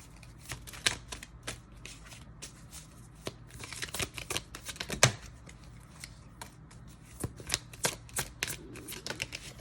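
Tarot cards being shuffled by hand, repeated quick riffling and slapping bursts at close range with short pauses between them, no talking.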